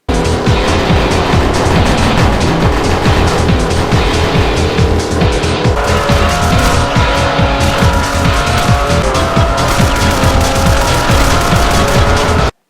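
Race cars in the polygon-style racing video game Racing Apex, loud engines roaring continuously with tire squeals and skids, no voices.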